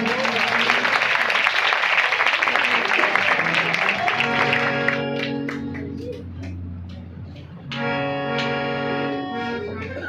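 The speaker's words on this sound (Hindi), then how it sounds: "और उस्ताद मोहतरम के लिए एक बार फिर तालियां बजाएंगे।" A church anniversary crowd applauds in a dense burst for the first half, which fades as musical keyboard tones take over and carry on alone.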